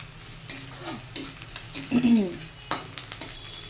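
Garlic frying in a pan with greens waiting to be added, a steady sizzle broken by stirring and utensil scrapes, louder in the middle of the stretch, with no voices.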